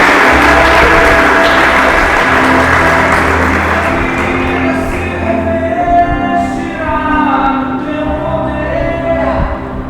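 A church congregation at a Sunday service claps and cheers loudly, the applause washing over a preacher's voice that continues speaking and rising in pitch.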